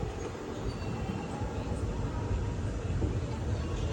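The Bangalore–Chennai Mail rolls into Podanur junction with a steady, broad low rumble of wheels and carriages, close and continuous for a few seconds, with no distinct horn or voice standing out.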